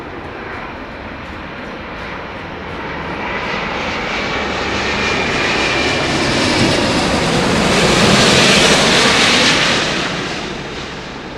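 A Boeing 747 jet passes overhead at Heathrow Airport, its engine roar swelling loud and close to a peak before easing away, with no voices.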